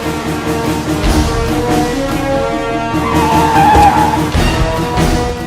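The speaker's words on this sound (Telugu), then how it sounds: "భారీ ట్రాఫిక్" Busy road traffic in a city street, with a steady wash of vehicle engines and a tire squeal or skid rising out of the continuous roar near the middle.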